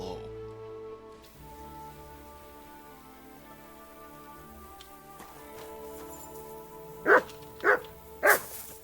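Three sharp barks from the dog Mutt in Kingdom Come: Deliverance II, spaced about half a second apart near the end, over a quiet game ambience with a soft drone.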